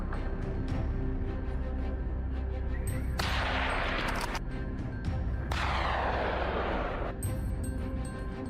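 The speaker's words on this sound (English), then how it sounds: "Willie witnesses accurate shots fired from a distance" Hunters fire at wild boar, a few heavy, booming gunshots with long rolling echoes that decay over a couple of seconds, set against a constant low rumbling background.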